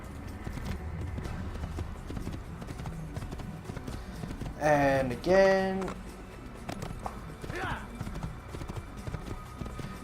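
Horse hooves clip-clopping in Assassin's Creed, a steady rhythmic beat through the whole stretch with a short horse whinny midway, while someone talks over the game sounds.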